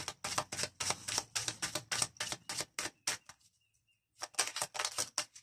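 Oracle cards of the archangels are shuffled by hand: quick, crisp riffling bursts in a steady run, a short silent pause, then more shuffling, close and soft.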